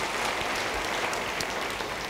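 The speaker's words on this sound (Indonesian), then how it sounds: "Yang mau beri tepuk tangan bagi dia." A church congregation claps steadily throughout, a dense, even wash of applause with no voices standing out.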